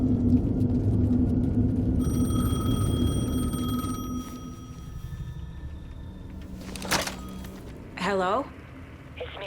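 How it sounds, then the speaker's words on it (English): A payphone rings in the video game Alan Wake 2 with a steady electronic bell tone over a low ambient rumble, fading into quieter game atmosphere and ending in a short warbling burst, with no talking heard. "The payphone was ringing."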